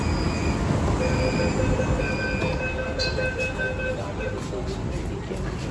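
A Delhi Metro train rumbles steadily with high metallic wheel squeals and a few clanks, loud and close, while people talk faintly nearby.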